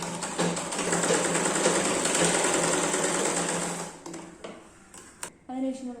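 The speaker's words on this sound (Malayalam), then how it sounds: "ചേർത്ത് പിടിച്ചിട്ട് ഇവിടെ നിന്ന് മേലേക്ക് നമുക്ക് സ്റ്റിച്ച് ചെയ്തെടുക്കാം." Sewing machine stitching a princess-cut blouse and pleated skirt, a steady loud mechanical whir running continuously for about four seconds, then stopping into quieter handling sounds and brief clicks.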